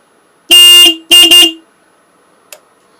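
Horn on a Suzuki GSX-R600 motorcycle sounds close and loud: one long beep, then two shorter beeps in quick succession, followed by a faint click.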